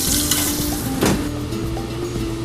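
Garlic sizzling in olive oil in a hot pan, a steady close crackling hiss that runs throughout with a brief louder burst of spitting in the middle and no talking.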